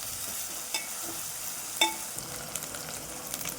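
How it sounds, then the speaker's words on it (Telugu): Green chili and garlic paste fries in oil with a steady soft sizzle, punctuated by a few sharp spatters and stirring clinks, close and alone without talk. "ఇది ఇట్లా నూనెలు ఉడకనివ్వాలి."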